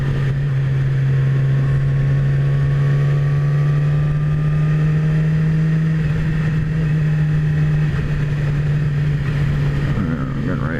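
A 2017 Yamaha R6 sport bike engine drones steadily and close while riding, a strong low tone holding over rushing wind, with pitch shifts and a brief drop near the end as the rider talks over it.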